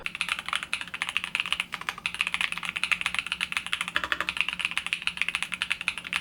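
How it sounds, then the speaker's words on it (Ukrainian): Rapid, continuous typing on an ASUS ROG Azoth Extreme mechanical keyboard, crisp clicky keystrokes in a dense, uneven rhythm, close and clear with no voices. "Це значно зменшує вібрацію та звук натискання клавіш."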